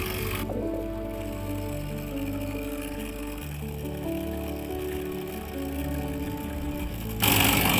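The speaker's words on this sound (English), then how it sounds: "Now, after switching on the vacuum pump, we will operate the vacuum pump till minus 700 mm of Hg pressure is reached." A vacuum pump on a solar thermal adsorption refrigeration rig, evacuating the system toward minus 700 mm of mercury, gives a steady, even mechanical hum with a constant tone throughout. No one speaks.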